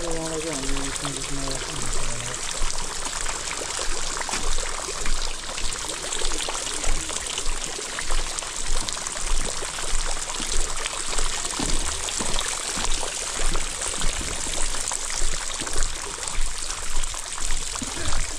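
Water gushing from the 108 stone spouts at a temple, a dense continuous splashing and pouring close by, with a person speaking over it.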